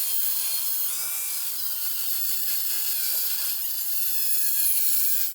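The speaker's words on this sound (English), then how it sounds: "So that grinder cut right through that channel." An angle grinder cuts through steel channel stock for a dune buggy's front bumper, giving a steady, loud, high-pitched metallic whine that runs unbroken throughout.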